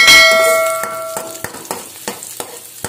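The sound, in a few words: garlic and onion sautéing in oil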